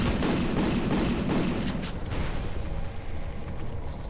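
Grenade blasts and rapid bursts of gunfire from a ranked-match shooter video game fire in dense, loud volleys with heavy booms, easing slightly toward the end while a faint beeping repeats.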